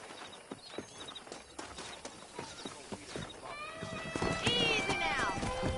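Video game horse hooves clop irregularly in Red Dead Redemption, then a horse whinnies loudly, with outdoor ambience in the background.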